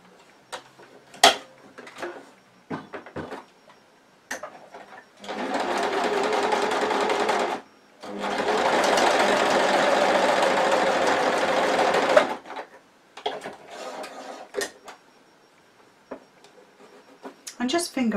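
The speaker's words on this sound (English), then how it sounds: "stitch that along that 1/4 inch seam" A sewing machine stitches a quarter-inch seam on a fabric mug coaster, with two steady runs of stitching of about two and five seconds, a short pause between them, and soft handling clicks and taps before and after.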